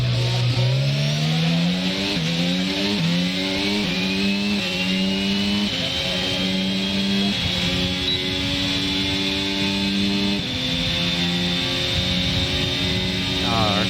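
An F1 race car in the F1 22 video game runs a lap with DRS open, its high engine whine climbing steadily through a series of rapid upshifts, loud and continuous throughout.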